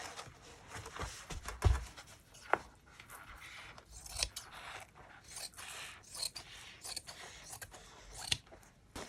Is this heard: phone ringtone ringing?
no